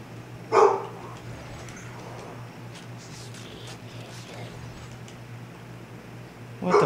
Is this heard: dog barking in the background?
yes